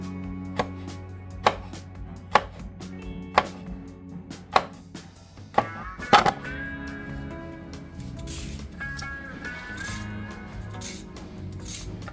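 A knife slices vegetables very thinly on a board in a home kitchen, about seven crisp, evenly spaced chops, followed by softer clatter and handling sounds.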